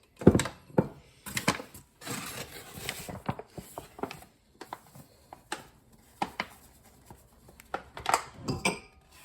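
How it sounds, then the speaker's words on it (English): All-purpose flour being scooped by the cup into a mixing bowl for New York style pizza dough: irregular clunks, taps and scraping knocks of measuring cups against the bowl, close and fairly sharp, with short quiet gaps between them. "I'm going to go ahead and put 6 cups of flour into the bowl."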